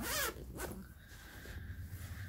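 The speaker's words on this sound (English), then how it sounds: "And it zips fine." Zipper on a Vera Bradley crossbody bag being pulled, a loud rasping zip at the start followed by a second shorter pull, then quiet handling noise.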